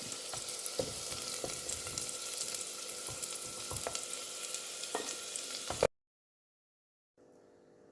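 Tender jackfruit pieces fry in hot oil with a steady close crackling sizzle and occasional sharper pops, then the sound cuts out abruptly, followed by a faint quiet hum.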